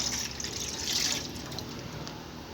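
Plain water pours steadily into a pot already holding coconut milk for a crispy water chestnut dessert, a continuous close splashing gush with no voices.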